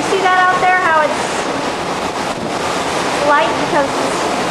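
Strong wind gusts across the open deck of the Queen Mary 2 ocean liner mid-Atlantic, a loud, steady roar with waves beneath it, while a voice talks briefly over the noise.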